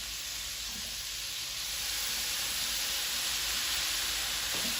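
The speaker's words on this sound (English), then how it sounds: "So we're going to continue cooking our shrimp. So put it back in the pan." Shrimp returned to a hot pan sizzle with a steady, soft hiss, close and unbroken, with a few faint clinks.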